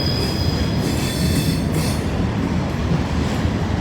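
A freight train rolls past close by, a loud steady rumble of railcars with wheel squeal and faint clatter throughout.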